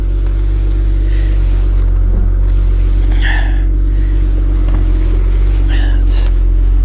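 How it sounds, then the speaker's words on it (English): A Chevrolet Camaro SS idles with a steady low engine rumble, strong and close, with a deep exhaust drone and a couple of faint higher whooshes passing over it. "Oh, that exhaust sounds good. Listen to that."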